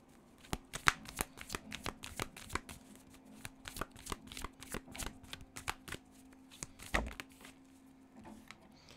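Tarot cards being shuffled by hand during a reading, a quiet series of crisp riffling and tapping clicks in irregular bursts, close up with little else around them.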